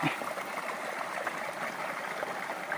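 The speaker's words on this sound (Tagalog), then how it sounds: "sarap maligo sa ganitong sapa malinis tuloy tuloy ang daloy ng tubig" Clean, clear stream water flowing continuously at an outdoor creek, a steady close rushing and gurgling babble with no breaks and no talking.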